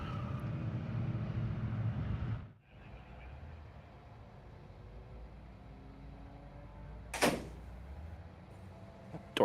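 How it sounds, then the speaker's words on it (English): A loud door slams at a motorsport race circuit, a single sharp broadband bang standing out over steady rumbling ambient noise, with a fainter knock near the end. "Oh, loud door slams."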